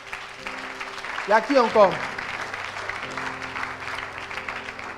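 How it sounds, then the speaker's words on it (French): A church congregation gives a short round of clapping and cheers at a pastor's prompt, rising briefly under his amplified voice and then dying away as he keeps speaking. "On peut acclamer pour lui."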